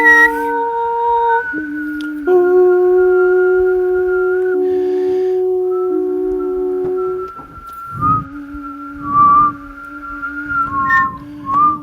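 Someone whistles a wavering, halting tune, long held notes sliding up and down, broken by short breathy gaps near the end.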